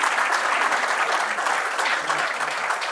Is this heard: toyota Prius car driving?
no